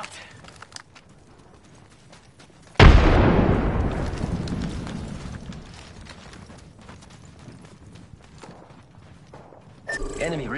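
A frag grenade explodes in the video game Apex Legends with a sudden loud blast that decays over several seconds, preceded by quiet game ambience with speech, and a second burst of noise arrives near the end.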